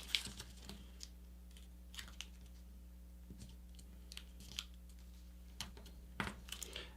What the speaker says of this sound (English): once I do one side, I'll fold it in half like this and just book match it.